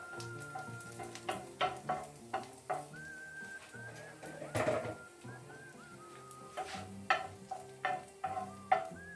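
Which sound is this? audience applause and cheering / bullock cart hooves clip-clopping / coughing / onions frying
onions frying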